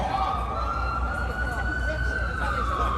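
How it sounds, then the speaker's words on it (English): Outdoors at a jazz festival in a city park, an emergency vehicle siren slowly rises and sweeps across the scene. It sits fairly faint under dense crowd chatter and low city rumble. "That was a different kind of siren there."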